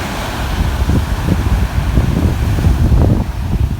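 Ocean waves wash in at an empty beach in rough, wavy conditions, a steady broad roar of surf mixed with heavy wind buffeting the microphone, continuous and fairly loud throughout.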